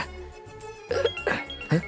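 In a Hindi-dubbed action comedy film, a phone rings with a few bright, chiming tones in quick succession over a low steady hum.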